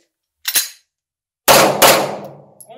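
Handgun shooting practice: two sharp gunshots, a short crack followed about a second later by a louder blast and a second report close behind, each trailing off into a decaying echo.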